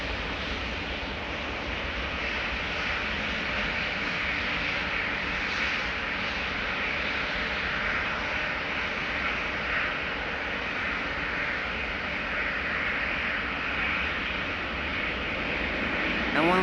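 A KLM Embraer E2 jet departing Amsterdam Schiphol for Florence, its engines a steady broad roar holding level throughout, with wind noise on the microphone.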